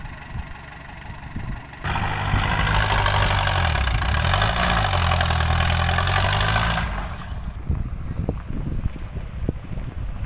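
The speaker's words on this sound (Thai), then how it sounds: "รถไถทำงานอีกแล้วครับ" A tractor engine starts up close and runs at a loud, steady roar for several seconds at an earthmoving site by the Mun River in Buriram, Thailand, then drops away, leaving quieter outdoor rumble.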